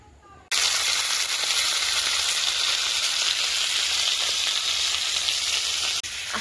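Kohlrabi and potato pieces hit hot oil in a wok, a sudden loud sizzle that stays dense and even for several seconds before a brief dip near the end.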